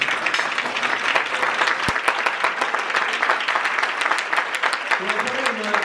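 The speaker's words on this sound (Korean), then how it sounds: "여러분, 깃발이 전달될 때 뜨거운 박수 부탁드립니다." Sustained crowd applause at a rowing club's 60th anniversary ceremony during a flag handover, steady and dense throughout, with a voice briefly rising near the end.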